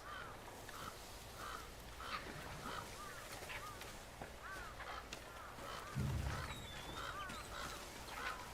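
Birds squabble on a roof in the Ghost of Yotei video game, with repeated cawing calls over a steady ambient background of faint game noise.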